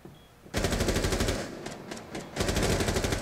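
Automatic rifle pre-fire in Rainbow Six Siege, two rapid, loud, close bursts of rattling shots separated by a short pause with scattered single rounds between them.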